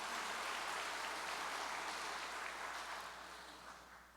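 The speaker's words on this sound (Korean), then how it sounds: "감사의 박수를 부탁드립니다." Pastors receive a broad round of thankful applause from a large gathering at an association award ceremony, a dense even wash of clapping that holds steady and then slowly fades toward the end.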